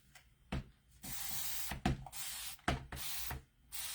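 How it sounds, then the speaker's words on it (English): A spray bottle spritzes water onto a work surface, four or five close, hissing bursts of about a second each, separated by short clicks of the trigger and brief quiet gaps. "I'm going to clean it at on my surface just by spritzing it with water"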